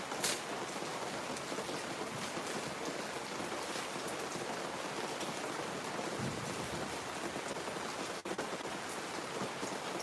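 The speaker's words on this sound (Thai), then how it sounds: "ฝนตก ฟ้า ร้อง" Steady rain falling outdoors during a thunderstorm, a dense even hiss of drops on surfaces lasting throughout, with no clear thunder rumble standing out.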